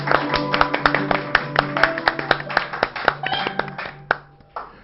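A small audience claps in rhythm at a birthday celebration, close and crisp, with sharp individual hand claps over music that fade out near the end.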